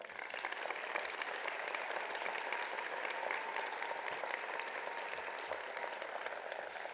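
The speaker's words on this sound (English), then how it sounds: "How about another round of applause?" Sustained applause from a large crowd at a law school commencement, an even dense patter of clapping that continues steadily throughout.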